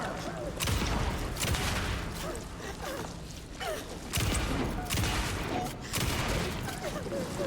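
Gunfire in the video game Alan Wake II: several loud, sharp shots at irregular intervals with booming tails, and a person talks over them.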